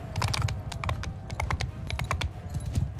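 Rapid clattering hoofbeats of a horse in the medieval battle game Mount & Blade II: Bannerlord, a dense, close patter of hooves that runs without a break and carries no speech.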